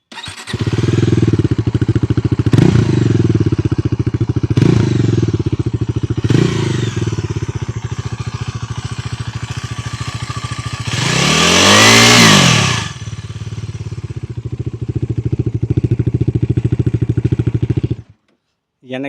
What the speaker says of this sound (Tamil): இதோட எக்ஸாஸ்ட் நோட் எப்படி இருக்குங்கிறது நான் உங்களுக்கு காட்டுறேன்